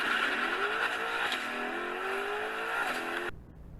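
A Corvette C5 Z06 sports car accelerates hard from a standstill, engine note climbing steadily through the revs with a brief gear change, loud and sustained before cutting off abruptly.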